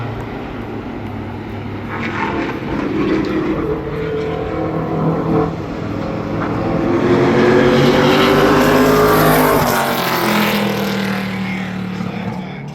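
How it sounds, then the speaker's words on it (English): An ARCA Menards Series race car on a qualifying lap at Berlin Raceway roars in from a distance, swelling to a loud pass and fading again, with a faint commentator's voice beneath. "Trevor Ward coming to the green flag"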